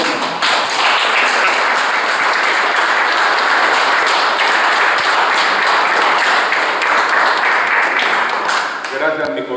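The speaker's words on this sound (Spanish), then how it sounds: "para quien pido un aplauso muy sonoro" A military audience applauds loudly and steadily for a living martyr of a 1965 campaign in Cúcuta, a dense wash of clapping that holds for several seconds before tapering off.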